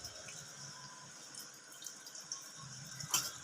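Snail meat is rinsed in water, giving soft, faint splashes and trickles with a few brief louder sloshes near the end.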